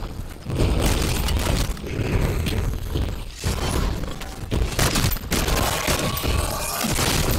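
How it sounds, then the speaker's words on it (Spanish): A Longbow sniper rifle in Modern Warfare 3 Zombies fires slowly amid a dense, loud wash of game combat noise, with heavy booming impacts and shattering crashes running throughout. "Y es que claro, un francotirador dispara muy lento."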